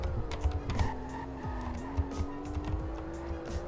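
The 600-horsepower engine of an Aston Martin DB11 pulls hard under acceleration, a steady rising drone with a climbing engine note and some road noise throughout.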